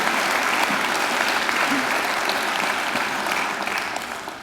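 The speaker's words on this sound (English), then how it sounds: "they deserve a great round of applause too" A university graduation audience at Macquarie University claps for alumni volunteers in a full, sustained wash of applause that tapers off toward the end.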